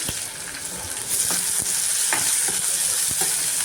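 Onions and green chilies sizzle in hot oil in a kadhai with crushed garlic, a steady bright frying hiss with soft stirring scrapes throughout, louder after the first second.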